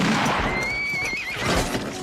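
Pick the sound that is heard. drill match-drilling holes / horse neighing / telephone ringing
horse neighing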